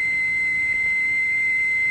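Steam whistle sounding one steady high-pitched note, loud and unbroken for the whole stretch over a faint hiss.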